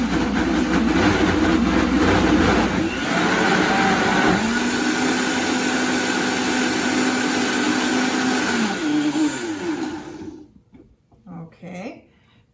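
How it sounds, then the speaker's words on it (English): A Vitamix blender blends butternut squash soup with garam masala, a loud steady motor roar that holds and shifts pitch before cutting off, followed by quiet clinks and faint sounds. "I'm just going to give it a little stir before I start to blend."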